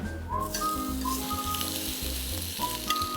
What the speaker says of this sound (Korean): 김하고 키조개는 한번 구워주도록 하겠습니다.